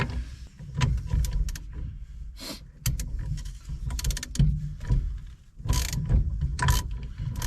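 A puller being tightened on the roll cage of a 1972 Chevy Nova drag car, producing repeated close ratcheting clicks and metallic mechanism noise in uneven bursts, with no talking.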